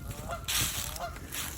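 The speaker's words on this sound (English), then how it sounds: "I always think of geese when I hear them honk." Geese honk repeatedly outdoors, a cluster of nasal calls rising and falling over a soft background hiss, moderately loud and with no talking.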